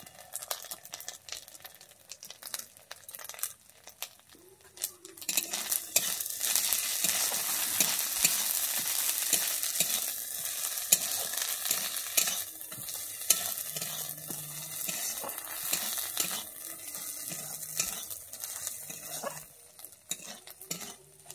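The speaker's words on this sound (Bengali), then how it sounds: "আমার আদা রসুনটা ভালোভাবে কষানো হয়ে গেছে, এবারে আমি দিয়ে দিচ্ছি গুঁড়ো লঙ্কা" Chili powder hits ginger-garlic paste in a pan for a Bengali prawn and elephant foot yam curry. After a quieter start, loud sizzling builds and continues, with repeated scraping stirs of a spoon against the pan.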